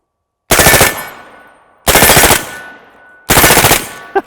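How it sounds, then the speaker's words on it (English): An AR-15 fires on full auto with Berry's 55gr FMJ reloads in .223/5.56: three loud, close bursts of rapid shots, each cut short, separated by quiet gaps as the echo fades. "time to go full auto"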